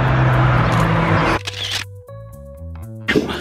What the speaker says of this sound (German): jetzt machen wir hier an der ersten Tür ein paar Fotos